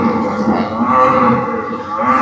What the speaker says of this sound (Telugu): ఇవన్నీ ముర్రా గేదెలు